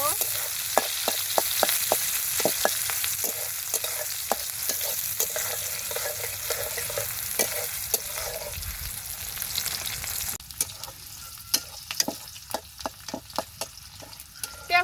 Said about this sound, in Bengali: পেঁয়াজ কাঁচামরিচটা খুব ভালোভাবে ভেজে নিব